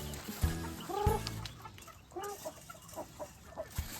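Native farm chickens cluck and squawk nearby in a few short, uneven bursts over a soft outdoor background.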